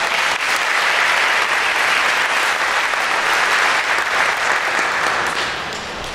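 An audience at an Honors Day 2019 awards ceremony gives a full round of applause, dense and loud clapping from many hands that tapers off near the end.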